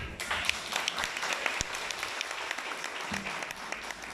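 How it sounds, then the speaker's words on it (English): Steady applause from a crowd, many hands clapping densely throughout with no talking, moderately loud and close. "We need a better round of applause"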